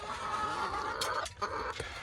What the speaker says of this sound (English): Senior Magnificent is a beautiful rooster.